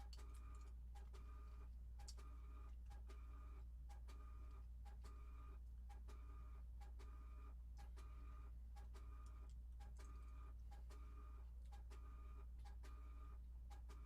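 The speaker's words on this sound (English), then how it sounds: "Almost done. My dot matrix printer." A dot matrix printer prints labels with a steady run of rapid mechanical ticks and short bursts, close and continuous over a low constant hum, with no voices.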